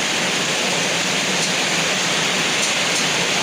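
Steady, dense hiss of rain pouring down, broadband and continuous throughout, with no voices or other distinct events.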